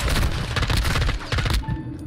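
A gold M16 rifle fires in the video game Modern Warfare II, a rapid, loud burst of repeated shots that stops abruptly near the end, leaving a quiet tail.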